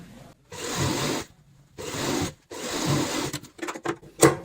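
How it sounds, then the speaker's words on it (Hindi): A sewing machine stitches a ladies' cloth purse made from old fabric, running in three bursts of about a second each separated by short pauses, then a few quick clicks and taps, close and clear, with no talk. "सबसे पहले आपने यहाँ पे सिलाई लगानी है, सिलाई के ऊपर सिलाई"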